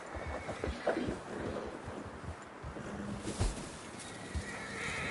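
Horses whinny and neigh in fresh snow in the Red Dead Redemption 2 video game, with hoof clip-clop and wind blowing through the scene. The sounds are moderately close amid steady ambient noise.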